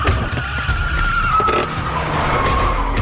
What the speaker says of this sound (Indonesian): Si Kopet juga muncul lagi bersamaan dengan mobil modipan yang nabrak siapa aja.